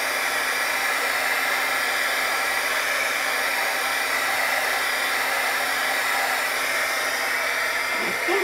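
Heat gun melting embossing powder, a loud steady whooshing blower hiss that runs unbroken and close for the whole stretch, with no talk.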